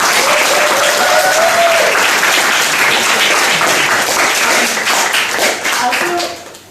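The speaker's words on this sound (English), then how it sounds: "Let's give our speaker a round of applause" An audience applauds a speaker at the close of a talk's Q&A session, steady loud clapping filling the room for several seconds before tapering off at the end.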